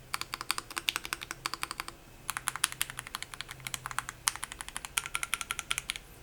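Rapid, crisp clicks of an AKKO M3W aluminum mechanical keyboard being typed on in quick bursts with brief pauses, close and fairly quiet.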